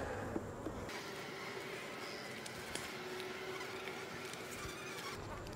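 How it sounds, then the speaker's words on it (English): Angry honeybees buzz densely and close around an open beehive during an inspection, a continuous agitated drone with occasional light knocks and rustles beneath it. "Starting to get a few angry bees in there."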